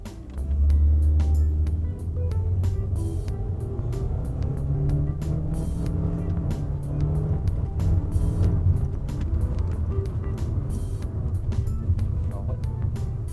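2021 Toyota Corolla Cross 1.8G CVT engine driving in manual mode, a steady low hum with shifting revs from inside the cabin, faint clicks throughout and a person talking over it.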